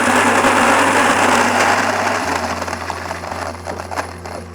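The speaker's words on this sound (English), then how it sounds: "It keeps the milling chamber open so that it cracks the wheat instead of milling it into a powder." A NutriMill Harvest grain mill cracks wheat with its milling chamber set open, giving a loud, close, steady motor whine with gritty rattling that grows rougher and slightly quieter toward the end, with no talk.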